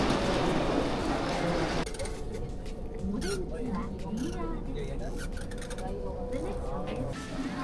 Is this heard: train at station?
yes